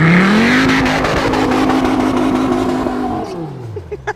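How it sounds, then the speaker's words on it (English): A Dodge car engine held hard against its rev limiter gives a loud, close, sustained buzzing drone that stutters slightly at the cutoff, then drops away near the end as a few brief bursts follow. "I believe Fred is unfamiliar with the concept of rev limiter"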